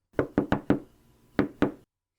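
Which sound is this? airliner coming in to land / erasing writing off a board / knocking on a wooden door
knocking on a wooden door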